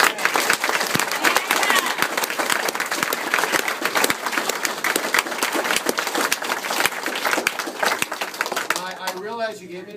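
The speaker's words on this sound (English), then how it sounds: "I realize you gave me the applause." An audience applauding a governor at a political speech in Eau Claire, dense sustained clapping from a crowd that tapers off near the end as a voice begins to speak.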